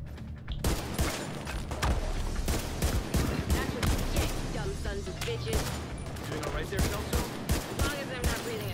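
Gunfire in The Division 2, dense rapid bursts and overlapping shots nearly continuous for several seconds, moderately loud, with a player talking over it.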